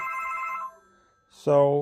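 A toy telephone from a 2021 Who Wants To Be A Millionaire board game rings with a steady electronic trill, pauses briefly, then sounds a louder, bright tone burst up close.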